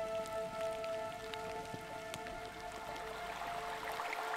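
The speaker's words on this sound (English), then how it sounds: "The rain started late evening the day before and hasn't stopped since." Steady rain falls in the Great Smoky Mountains, a soft, continuous patter of drops on surfaces with scattered louder plinks, fairly faint and even throughout, with no voices.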